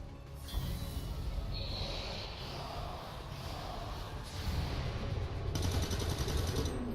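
A gunshot kill in a first-person shooter video game: a sharp report near the start, then dense, noisy gunfire and battle sound that stays loud and steady throughout, with no voices.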